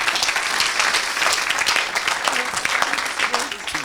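A church congregation applauds and cheers for Jesus during a service, with dense, steady clapping filling the room. A voice talks over the applause throughout.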